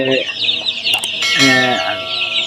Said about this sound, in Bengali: মুরগির বাচ্চার বয়স দশ দিন